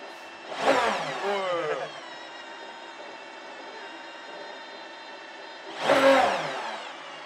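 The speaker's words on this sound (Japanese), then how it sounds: "エンジンスタートボタン、 いきます。" An Aston Martin sports car's engine fires up from its start button with a loud rising revving burst, settles into a steady idle, then revs sharply again near the end, close and without talk.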